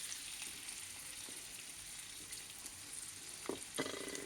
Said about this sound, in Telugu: పచ్చిమిరకాయలు ఉల్లిపాయలు వేసి వేయించుకుందామండి